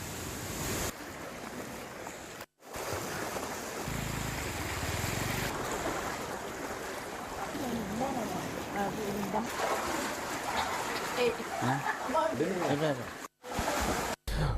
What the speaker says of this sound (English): Four sluice gates were opened today in the Dadaroya Reservoir.